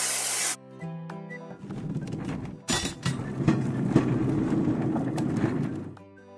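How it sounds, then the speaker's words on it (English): A weld seam is ground on a wagon in a kids' train video game, heard as a steady synthetic grinding hiss that lasts several seconds between short electronic game tones. "And now let's grind the seam."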